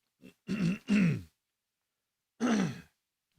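Several harsh throat clearings from a single person, two close together and a third after a pause, loud and close in a quiet room.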